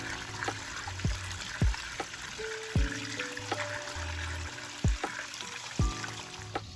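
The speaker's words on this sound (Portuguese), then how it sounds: "A água cria um murmúrio muito relaxante." Water trickles and splashes from a garden fountain cascade in a sensory garden, a steady low murmur broken by several sharper drips and plops, close and fairly quiet with no talking.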